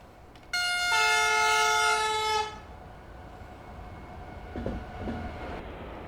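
An Austrian train on the Wiener Neustadt to Graz route in Train Simulator 2021 gives a loud, sustained horn blast lasting about two seconds. The steady rumble of the train running continues underneath and carries on after the horn stops.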